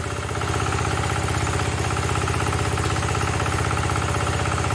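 A rebuilt engine from a 1974 112 idles steadily up close, with a rhythmic, fast knock tapping through the running note for several seconds, no voices over it.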